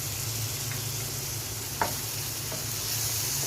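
Sweet pumpkin slices frying in a covered pan after a splash of water, a quiet, even sizzle with a steady low hum and a single clack of a utensil partway through, no voices.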